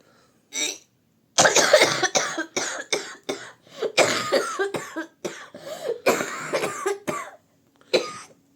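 A person who is unwell coughs in a series of harsh, loud, close bursts, about a dozen of them. Most come in quick clusters with brief pauses, and the bursts grow more frequent toward the middle.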